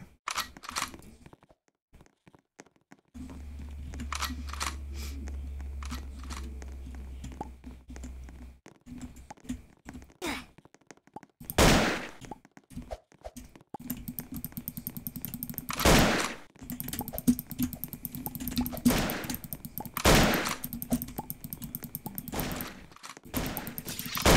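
Rapid gunshot bursts from a video game weapon crack out in several loud volleys, with sharp broadband bangs between stretches of lighter clicking and rumble; no one talks.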